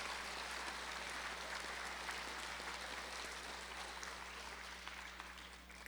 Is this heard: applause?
yes